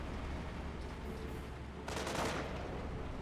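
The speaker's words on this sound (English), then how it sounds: "Rifle squad takes some fire from the Volks" Gunfire from a rifle squad trading shots with German Volksgrenadiers in Company of Heroes, a dense crackle of small-arms fire under battle noise that swells into a sharper, louder burst near the end.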